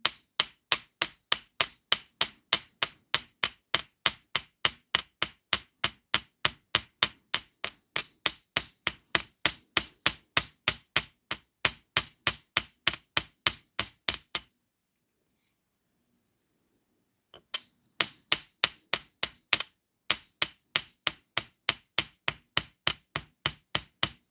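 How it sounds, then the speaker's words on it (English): The ball peen side of a hammer taps steadily on SoftFlex beading wire, a long run of sharp, bright metallic strikes at a quick, even rhythm, with a brief pause partway through before the tapping resumes. "And to texture it, I'm just turning it over and using the ball peen side."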